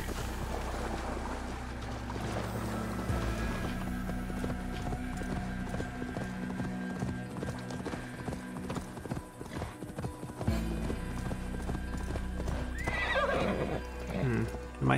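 In Assassin's Creed Valhalla, hooves clip-clop steadily throughout, a horse whinnies sharply near the end, all over a dense layer of game music and ambience.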